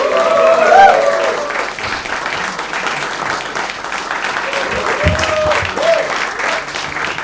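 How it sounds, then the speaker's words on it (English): An audience at a stand-up comedy show applauds comedian Arnav Rao, a sustained wash of clapping at full strength that tapers slightly, with a voice speaking briefly over it near the start. "Start clapping for Arnav Rao, everyone."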